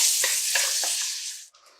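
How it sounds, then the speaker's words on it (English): Sausage searing in hot oil in a Dutch oven, a loud, bright hiss of sizzling with a few soft clinks as pieces drop into the pot, briefly dipping before the crackle continues. "So to this we are going to add our sausage, and we're going to get a good sear on all sides."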